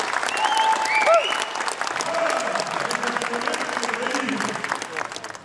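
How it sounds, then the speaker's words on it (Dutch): Audience applause at a Dutch national strongman championship, a steady broadband wash of clapping with crowd noise and brief voices and whistles over it, sustained throughout. "Groot applaus voor Gijs Boeien."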